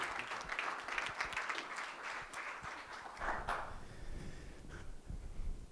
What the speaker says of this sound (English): Would you join me in giving them a round of applause for their being with us today?